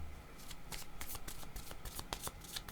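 A deck of cards is shuffled to draw a card, giving soft, close, repeated riffling flicks in an uneven rhythm.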